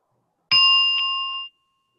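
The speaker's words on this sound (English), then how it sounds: "Now I will invite the bell." A mindfulness bell is struck once at a school assembly, giving a bright, clear ring with a sharp attack that sustains for about a second and then stops, alone in an otherwise silent room.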